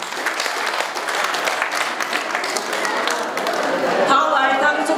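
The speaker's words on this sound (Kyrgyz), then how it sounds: "кол чабып отуруңуздар." Wedding guests at a Kyrgyz bride's farewell ceremony applaud in a dense, continuous burst of clapping, mixed with crowd chatter and voices.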